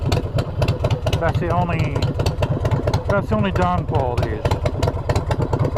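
A motorcycle fitted with aftermarket exhaust pipes idles nearby in a steady, loping, pulsing rumble, while someone talks over it.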